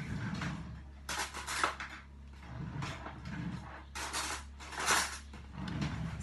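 A kitchen drawer is pulled open and rummaged through for a spoon, giving several clattering metal and wooden knocks, with bursts at about 1, 2 and 5 seconds over a low steady hum.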